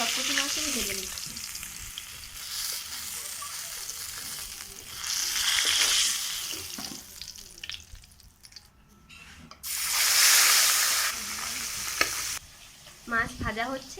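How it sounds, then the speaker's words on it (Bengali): Fish frying in oil gives off a steady crackling sizzle in uneven bursts, some louder than others, with a short murmur of a voice near the end. "মাছ ভাজা হচ্ছে, সেই ফাঁকে আমি মশলাগুলো করে নিচ্ছি।"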